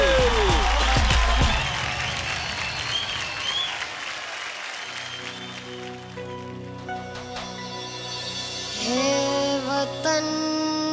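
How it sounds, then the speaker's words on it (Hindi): Applause and cheering from a TV singing-show audience for two singers opens the clip, then fades as a patriotic song's music begins with sustained instrumental tones and rising melody. "जोरदार तालियां भाई"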